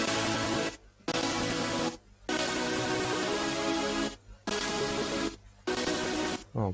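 Self-made uplifting beat layers stack a bright chord sound over a middle layer and bass, playing loud and full with several abrupt gaps where the high end cuts out; no voices.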